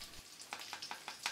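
Salted fish frying in oil in a pan, a faint soft sizzle with a handful of light crackling pops toward the end.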